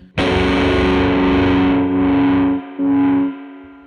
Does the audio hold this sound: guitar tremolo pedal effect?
yes